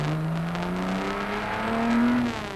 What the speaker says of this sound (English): Accelerating hard up to Dunlop Bridge.